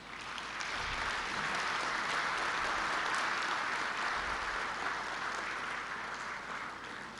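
An audience of member-state delegates at a SADC ministers' meeting applauds to welcome a new chairperson, with steady, dense clapping sustained throughout and no voices.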